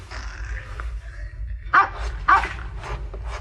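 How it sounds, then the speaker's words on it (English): A dog barks twice in quick succession, somewhat distant, over a low steady hum in a quiet indoor setting, with a few fainter yips around it. "It sounded like a dog barking."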